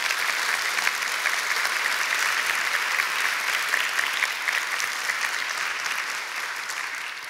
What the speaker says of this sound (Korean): 여러분들 주변 분들에게 박수를 한번 쳐주실래요?